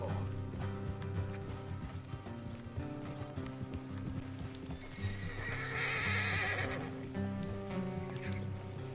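Horses in the Red Dead Redemption 2 video game, with a whinny and rhythmic hoof clip-clop over a steady game soundscape and faint mechanical clicks, moderately quiet throughout.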